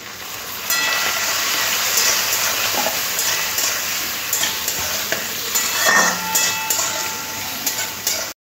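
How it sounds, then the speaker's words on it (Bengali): Cumin and chili powder are stirred with a splash of water in a pan for a papaya and masoor dal dish, producing a continuous wet sizzle and scraping that runs nearly the whole time. "আর একটু জল দিয়ে ভালো করে মিশিয়ে নেব"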